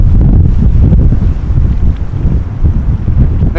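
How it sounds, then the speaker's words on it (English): Strong northwesterly crosswind during Storm Pia at Amsterdam Schiphol Airport roars steadily into the microphone, a loud, continuous low buffeting with no voices. "wind is now a bit more northwesterly, so there is more crosswind"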